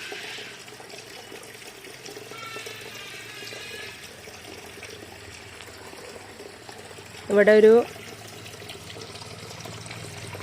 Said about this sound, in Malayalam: ഈ പുൽക്കൂടിൻ്റെ ഒരു ഹൈലൈറ്റ് എന്ന് പറയുന്നത് തന്നെ ഈ ഒരു വെള്ളം ഒഴുകി വീഴുന്നതാണ് ഈ കുളത്തിലേക്ക്